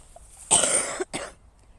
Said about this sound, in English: Excuse me while I cough.